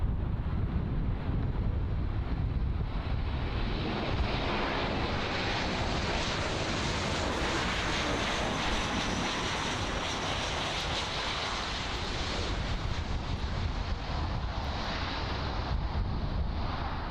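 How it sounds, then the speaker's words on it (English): An American Airlines Boeing 737-800 jet arriving at Miami International Airport, a sustained loud engine roar with wind buffeting on the microphone, continuous for the whole stretch without any talk. "Arriving next is an American Airlines Boeing 737-800 arriving from AUA."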